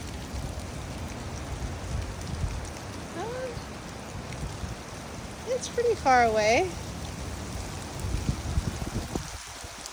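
Heavy rain pours steadily in a yard near a creek, a dense hiss of falling water throughout, while a person speaks briefly over it.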